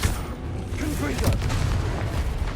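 In Hogwarts Legacy a Confringo spell bursts in a deep booming blast, a low rumbling explosion that swells and rolls on for a couple of seconds amid combat noise, with a voice briefly heard.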